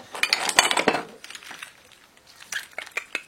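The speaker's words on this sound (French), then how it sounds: "il y a de la vaisselle, hein, il y en a pas mal" Plates, pots and cutlery clink and clatter in a brief cluster of close, bright knocks, pausing and then resuming with a few sharper clinks.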